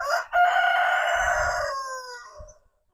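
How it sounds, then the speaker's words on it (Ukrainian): A rooster gives one loud, close crow of about two seconds that rises and then trails off, followed by a short quiet tail. "Півні привітались."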